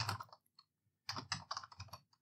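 Rapid bursts of keystrokes on a computer keyboard, close and crisp, with a short pause between two flurries of typing.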